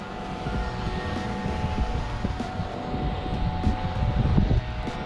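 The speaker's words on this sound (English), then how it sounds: "We got a drone friend over there." A steady, buzzing drone hum drifts overhead at a tree-rigging site, a continuous mechanical whine over low outdoor rumble with no one speaking.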